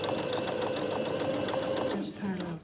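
Sewing machine stitching alongside the zip tape on a cushion cover, a steady close, loud mechanical whir with rapid needle rhythm that slows and stops near the end, with a person talking over it.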